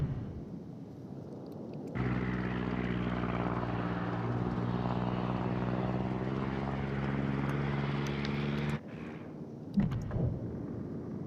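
Carrier aircraft group lifting off in the naval combat game World of Warships, a steady droning propeller roar that swells abruptly, holds loud and level for several seconds, then drops back to a quieter engine hum.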